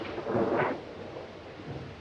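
A thunderstorm in an old dark house in a 1932 horror film, heard as a low rumbling roll of thunder that swells early, then fades into a steady, quieter storm background with no talking.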